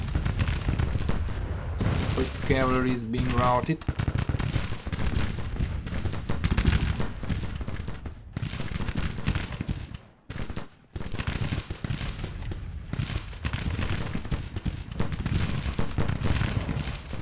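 Cannon and musket gunfire in a Grand Tactician Civil War video game battle, a dense continuous rattle of shots and booms throughout, briefly dipping near the middle, with a voice speaking early on.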